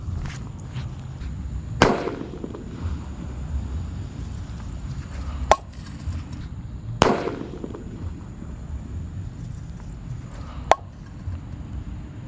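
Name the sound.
disco happy flower firecracker exploding under a covered pot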